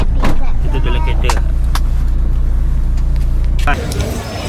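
Steady low engine and road rumble inside a moving car, continuous and fairly loud, with a voice and brief chatter over it; the drone drops and changes near the end.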